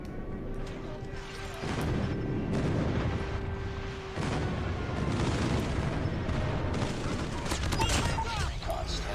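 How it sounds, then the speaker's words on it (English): Dense rumbling barrage of airstrike explosions and gunfire in a multiplayer shooter game, continuous heavy booms layered with crackling shots from mid-distance, with a brief tonal game alert early on. "Friendly airstrike incoming."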